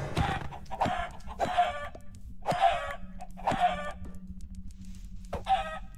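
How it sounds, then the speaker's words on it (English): Chickens in the Minecraft modpack FTB Skies Expert cluck in a series of about six loud, close bursts spaced roughly evenly, with a low steady hum underneath and no talking. "Chicken here, chicken there."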